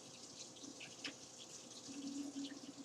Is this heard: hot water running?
yes